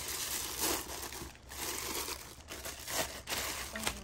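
A new Dr Prepare personal evaporative air cooler being unwrapped nearby, with soft, continuous crinkling and rustling of plastic packaging in irregular bursts at low volume.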